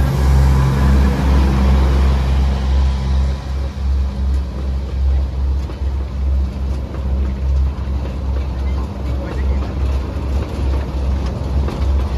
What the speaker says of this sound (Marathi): हो गाईस, ट्रेन आलेला आहे इकडे.